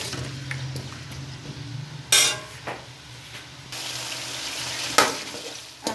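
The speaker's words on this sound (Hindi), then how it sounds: "आलू हमारे अच्छी तरह फ्राई हो चुके हैं।" Potatoes fry in hot ghee with a steady sizzle and crackle, punctuated by a few sharp clinks of a spoon against the pan, with no voices.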